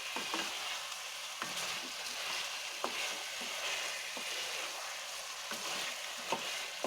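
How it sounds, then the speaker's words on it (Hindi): Fenugreek leaves and chicken frying together for Kashmiri methi chicken, a soft steady sizzle with occasional spoon scrapes and taps against the pan, fairly quiet and close, without speech. "बिल्कुल हमारी मीठी बहुत अच्छे से फ्राई हो गई और चिकन भी अच्छे से फिर से इसमें मिक्स हो गया।"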